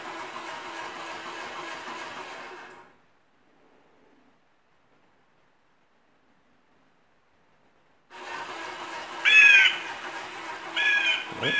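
Bird calls, crow-like caws and squawks, played through a speaker in a sealed low-resonance enclosure on an animatronic scarecrow bird; a burst of calls, then a long silence, then louder calls return.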